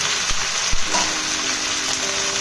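Okra (ladies' finger) frying in a pan with curry leaves, a steady broadband sizzle running close and continuous, with a couple of soft low knocks near the start and no voices.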